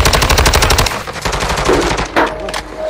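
Rapid automatic gunfire from an online multiplayer shooter, a loud dense burst of repeated shots in the first second, then more scattered shots and game effects continuing close by.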